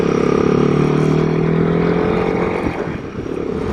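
A Royal Enfield Himalayan motorcycle riding on back roads in Virginia, a loud steady engine drone with wind rush that eases slightly near the end.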